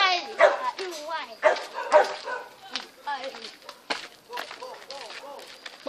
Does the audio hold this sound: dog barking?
yes